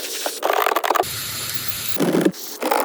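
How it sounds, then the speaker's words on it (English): Lubricant hisses from a spray can in short close bursts, one longer steady spray between them, during work on W124 seat skins. "This is good lubricant."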